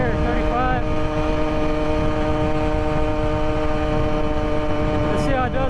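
A 63cc two-stroke gas engine on an ONYX RCR bicycle drones at full throttle, a steady buzzing tone held throughout with a slight dip in pitch, loud and close with wind noise around it.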